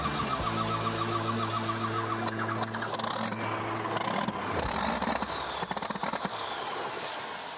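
A stubborn combine harvester engine cranks over and over without catching, a loud, sustained mechanical grinding with rattling bursts that keeps going without firing up.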